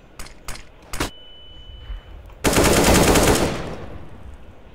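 Gunfire in CS:GO on Dust 2 cracks out in a few sharp single shots and then a loud sustained automatic burst lasting over a second, trailing off into quieter background game noise.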